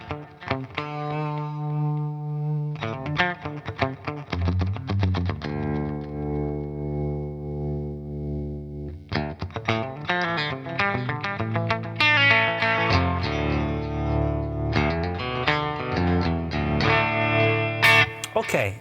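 Electric guitar played through a TC Electronic Plethora X5 on the HyperGravity compressor, with sustained chords and bursts of strummed notes, heavily effected with shimmering modulation and echo, loud and continuous.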